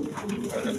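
Big Giribaz pigeons coo in a short, continuous, fairly loud burst of low throaty calls close by.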